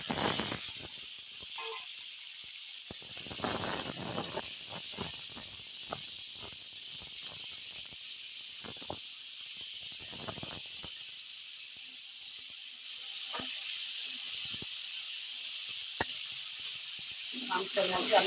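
Whole garlic cloves and onion fry in hot oil with a dried chilli and bay leaf for a country chicken curry, giving a continuous sizzling hiss that swells in places while a voice speaks intermittently.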